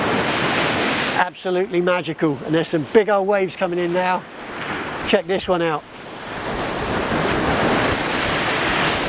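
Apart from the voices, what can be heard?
ocean waves breaking on rocks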